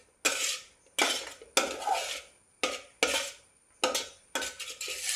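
Chicken noodles being stirred in a metal pan, heard as seven sharp scraping and clanking strokes of a utensil at a steady rhythm, close and loud, with faint sizzling underneath.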